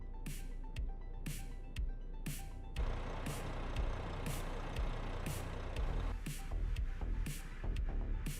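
Truck in the Euro Truck Simulator 2 game, with a steady low engine drone, regular reversing beeps and a long hissing air-brake release in the middle, all fairly quiet.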